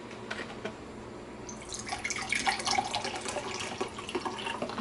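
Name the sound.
filling a drink bottle with water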